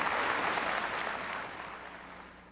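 A festival audience gives a warm round of applause welcoming True Mother, dense sustained clapping from a large crowd that gradually eases off.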